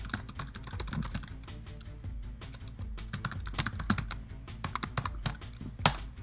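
Rapid, steady clatter of keys on a computer keyboard as a URL is typed, with dense close clicks running throughout over a low, continuous background hum.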